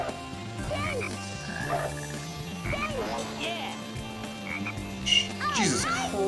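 Rainforest frogs in Sonic Heroes croak in a steady series of bubbly calls over looping game music, moderately loud, with a voice occasionally talking over them.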